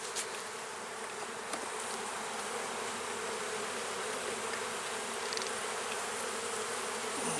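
Honey bees swarm around an open hive during an inspection, a dense, steady buzzing hum close to the microphone with no talk over it.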